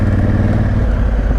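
A Honda Africa Twin motorcycle's engine drones loud and close under light throttle while riding off road in sand, a short, steady burst of low rumble with no talk.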